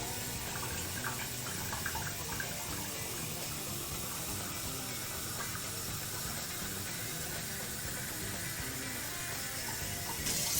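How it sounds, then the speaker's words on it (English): Hot water pours steadily into a mug to warm it before cheese fondue, a continuous hissing splash that runs unbroken for about ten seconds at a moderate level. "So we'll fill that up with some hot water here."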